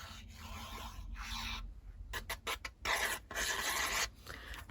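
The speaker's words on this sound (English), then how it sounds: "I'm sorry for that scratching noise" Intermittent scratching and rubbing during a craft project, working with PVA glue on journal and album pages, coming in short broken bursts with pauses between, close and moderately loud with no talking.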